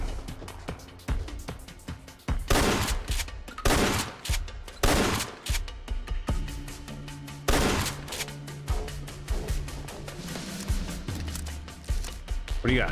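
Rapid, loud gunfire from a heavy mounted sit-down gun in the Fallout London game, fired in repeated close bursts and single shots with a mechanical hum between them.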